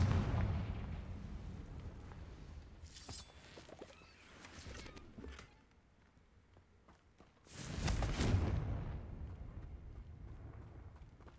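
Confringo and Bombarda spell blasts in the Hogwarts Legacy video game, two heavy booming explosions with rumbling tails separated by a quieter lull, loud and close, with no voices.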